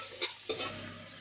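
Onions stirred in hot oil in a pot, with a couple of short scraping stir strokes over a soft sizzle, heard close and fairly quiet.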